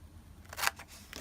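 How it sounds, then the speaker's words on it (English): Scissors snip through paper while sections are cut out for a junk journal pocket. A few quiet, brief cuts sound close by, with one sharper snip in the middle. "I'm just going to cut these sections out."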